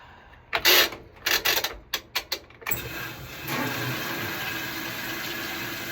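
A home washer starts a load of a dog blanket with Tide detergent: a few short mechanical clunks and bursts, then a steady rush of water filling the drum, close and even.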